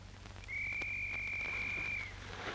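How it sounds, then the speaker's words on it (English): A single long steady whistle blast is blown as a signal by a soldier in a WWII infantry setting, held clear for about a second and a half over a faint low background hum. "There's Tyne's whistle right on the nose"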